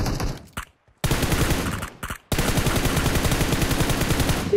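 Rapid automatic gunfire in the mobile battle royale game PUBG Mobile comes in loud, dense bursts broken by a couple of brief pauses, with no voices over it.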